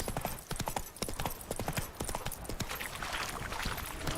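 Horse hooves clip-clop steadily at a trotting rhythm in The Witcher 3, close and loud, a dense run of sharp strikes over the full length with faint ambient noise behind.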